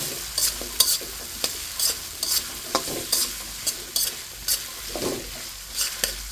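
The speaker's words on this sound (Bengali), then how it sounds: "পেঁয়াজের সাথে কচুরলতিটা হালকা একটু ভেজে নিচ্ছি।" Taro stolons (kochur loti) fry with onion in a hot pan, a continuous sizzle broken by regular, close scraping strokes of stirring, with no voices.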